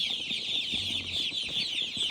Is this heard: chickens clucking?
yes